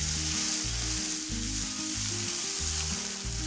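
Onions sautéing on a high flame for an egg curry with coconut milk, a loud, dense, continuous sizzle heard up close, with a low pulsing hum running beneath it.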